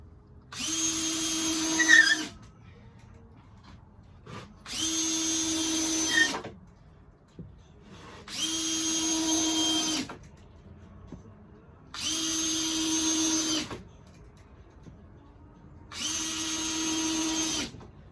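Power drill driving screws across the top of a wooden stair frame, in five steady bursts of roughly two seconds each separated by short pauses, close and fairly loud with no talking.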